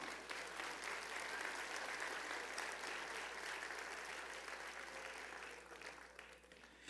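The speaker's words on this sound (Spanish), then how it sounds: "Un aplauso al Señor." Church congregation applauding during a service, a steady mass of hand-clapping that stays even for several seconds before tapering slightly, heard at a moderate distance.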